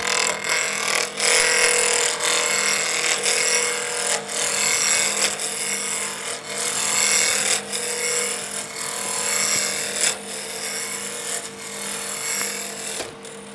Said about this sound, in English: I'm using a 1 1/4 inch roughing gouge.